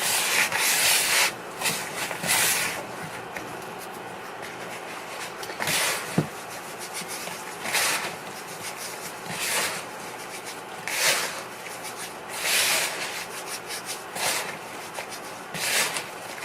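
Bath bomb powder with citric acid mixed by hand: repeated dry rubbing and scraping strokes of gritty powder, close and fairly loud, coming in irregular bursts separated by quieter moments.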